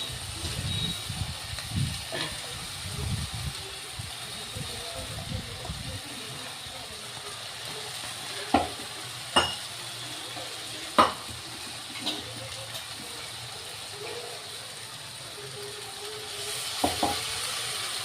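Green pigeon pea grains tipped into a hot pan sizzle steadily while being stirred, with a few sharp clinks of a utensil against the pan and a low background hum.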